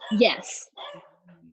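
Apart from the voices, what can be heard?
dogs barking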